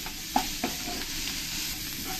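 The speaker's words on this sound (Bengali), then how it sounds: "এবার আমি পেঁয়াজগুলো একসঙ্গে দিয়ে ভেজে দেবো" Sliced onions fry with salt and turmeric in a pan. A spatula knocks twice early on over a steady, close sizzle that keeps hissing evenly to the end.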